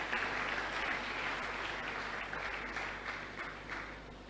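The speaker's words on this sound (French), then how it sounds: "Nous acclamons pour cette parole." A church congregation applauds steadily at a moderate distance, a continuous wash of many hands clapping with no speech over it.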